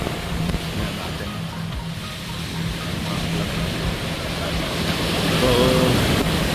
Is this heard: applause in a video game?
no